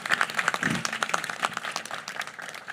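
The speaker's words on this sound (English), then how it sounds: "I think that deserves a round of applause in and of itself" A small crowd at a transit station news conference claps, sharp individual hand claps bunched at first and then thinning and fading toward the end.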